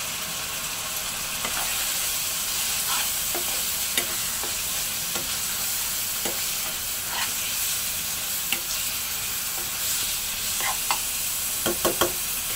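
Beef liver spices with turmeric fry in a pan, giving a steady broadband sizzle with occasional clicks and scrapes of stirring throughout, louder scraping taps near the end.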